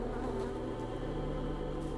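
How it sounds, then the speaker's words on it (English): Insect buzzing in The Secret World game, a steady close drone with a low hum underneath, continuous and alone for two seconds. "Hear that sound? Buzzing."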